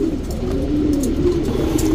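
Patta pigeons of a champion line coo in a steady, low, continuous murmur close by, with no voices over the rolling cooing.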